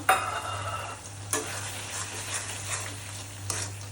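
Masala of ground onion, ginger paste, ground spices and chopped tomato stir-fried in a pan, with a continuous close sizzle and scraping strokes of a spoon, and a low steady hum underneath.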